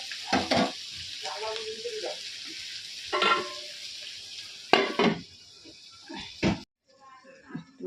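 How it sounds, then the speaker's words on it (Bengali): Food fries in a pan after tomato goes in, a faint sizzle under repeated stirring scrapes and clatters of a utensil, while someone talks between the strokes. "দেখো এখানে ভাজা ভাজা প্রায় হয়ে গেছে টমেটোটা দিয়ে দিয়েছে"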